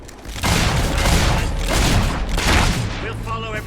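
Mortar artillery and gunfire pound in a Fable 3 battle, giving heavy overlapping booms and crackling bursts that stay loud throughout, with voices mixed in.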